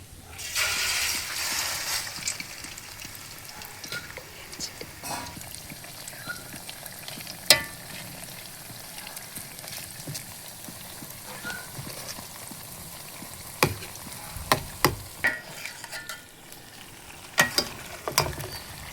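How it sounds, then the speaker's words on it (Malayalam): Chicken for dragon chicken sizzles in hot oil with a continuous crackling hiss, louder at first, while scattered clinks and scrapes of a utensil against the pan punctuate the frying. "ഫ്രഷ് ചെയ്ത് വെച്ച ചിക്കനൊക്കെ നമുക്ക് നൈസായിട്ട് ഇട്ട് കൊടുക്കാം"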